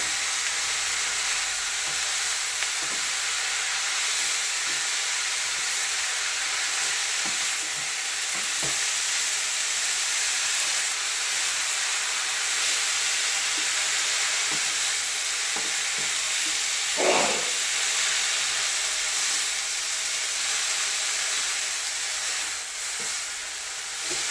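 Chopped mulberry leaves sizzle steadily in a hot pan for a Kerala-style thoran, a soft, continuous frying hiss close by with occasional light stirring scrapes and no voices.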